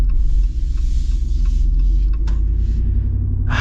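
A 2024 Jeep Wrangler 392 AEV Edition with its V8 gives a loud, steady low rumble and hum from inside the cabin while driving, with faint rattles over the top.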